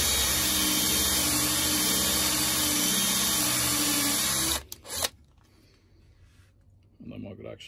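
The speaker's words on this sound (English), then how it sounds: "a mains drill, not a battery driven drill." A Parkside mains-powered electric drill boring holes in wood runs loud and steady for about four and a half seconds, then cuts off abruptly, leaving a quiet room before a softer burst of sound near the end.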